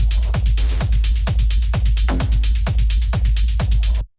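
A full techno loop from a construction kit pounds with a steady four-on-the-floor kick, dense hi-hats and percussion over a driving groove, loud and close before cutting off abruptly.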